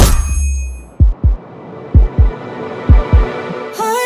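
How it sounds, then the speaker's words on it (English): A heartbeat sound effect thumps in three evenly spaced double beats, loud, deep and close, with a low hum beneath and a brief musical sting at the end. "Heartbeats go fast, fast, fast."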